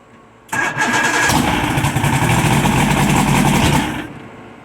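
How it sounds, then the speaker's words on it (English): A boat's outboard motor cranks and catches, then runs steadily at a loud, close idle for about three and a half seconds before cutting off. "I'll fire it right quick. That ain't gonna hurt nothing. I'll fire it up and that'll be it."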